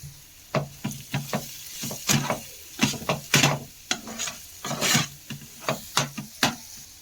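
Pasta being stirred in a pan with garam masala and pepper powder, a string of close scraping and knocking strokes from a spoon against the pan at an uneven pace, over a soft sizzle.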